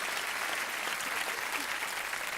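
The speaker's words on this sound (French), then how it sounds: "Applaudissez très fort." Audience at a cabaret evening gives a dense, continuous round of applause, steady and close throughout.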